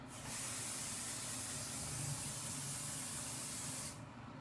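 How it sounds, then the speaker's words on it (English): Pixie spray adhesive is sprayed onto a mandala stencil over paper in one long, steady, close hiss that lasts almost four seconds and then cuts off. "I just totally sprayed the hell out of this stencil"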